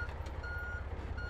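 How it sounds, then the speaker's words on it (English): Steady repeating reversing beeps from a truck backing up, a single high tone pulsing in an even rhythm over a low idling engine rumble, moderately near. "Do you know this sound? It's me reversing the truck."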